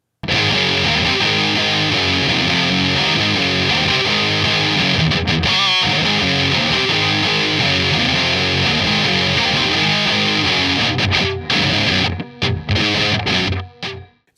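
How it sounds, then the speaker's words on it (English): Electric guitar played through a Boss MD-2 Mega Distortion pedal, a heavily saturated high-gain tone sustaining loud and dense almost throughout, breaking into short choppy stops near the end. "Boss released a new distortion pedal that was aimed at these players called the Mega Distortion."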